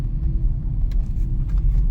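A 2023 Acura Integra on snow tires driving through snowy terrain: a steady, low engine and road rumble heard from inside the car, with a few faint rattles and crunches on top and no talk.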